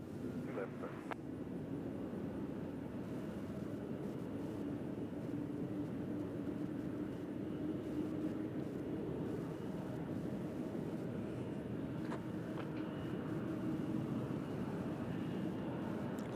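An Allegiant Air airliner arriving at Nashville International Airport, a faint steady distant jet drone holding for the whole stretch with no clear swell.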